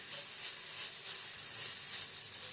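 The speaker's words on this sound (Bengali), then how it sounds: "সমস্ত সবজিকে খুব ভালো করে নেড়েচেড়ে ভেজে নিয়েছি।" Vegetables sizzle and fry steadily in a pan, a continuous close hiss with faint crackle and no pauses, seasoned with salt for a vegetable semiya upma.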